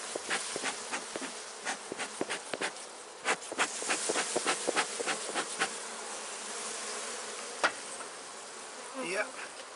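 Honey bees buzz around an open beehive during an inspection, a close, dense hum with many sharp buzzes as individual bees fly past the microphone, continuous throughout.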